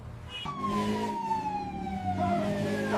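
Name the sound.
police car siren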